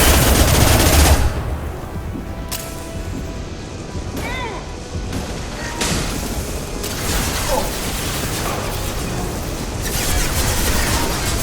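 Impact shots and gunfire in Mass Effect 2, a loud opening blast followed by a chaotic stretch of scattered cracks, metallic smashes and explosions amid noisy combat.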